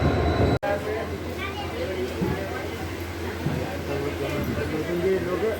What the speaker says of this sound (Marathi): मडगाव टू कुलेम ट्रेनमध्ये आम्ही जात आहोत